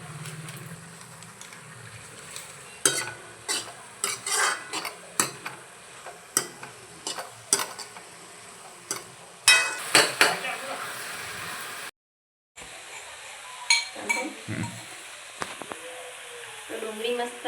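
Onions sautéing in a pan, with a soft background sizzle and a long series of sharp close clicks and scrapes from stirring, plus one brief silent gap partway through.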